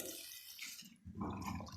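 Water poured into a cooking pan of peas for a pea curry, a short splashing pour that swells after a brief lull, close and fairly quiet.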